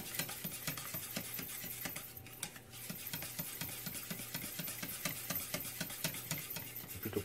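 Crêpe batter being stirred in a bowl just after milk is added, a steady rhythmic scraping and swishing that repeats throughout, close and moderately loud with no talk.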